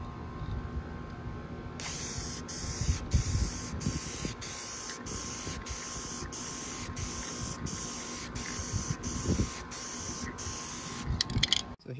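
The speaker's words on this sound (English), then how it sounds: "spraying on these sail panels with that spray paint" Fabric-coating spray paint from an aerosol can goes onto the interior sail panels of a Monte Carlo SS G-body car. Repeated short, close hissing bursts come in an even rhythm for about ten seconds over faint background rustle.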